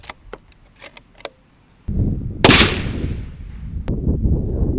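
A single loud, sharp crack from a Remington 700 Mountain SS rifle fires outdoors. A rolling echo fades away behind it, and a few small clicks of handling come before the shot.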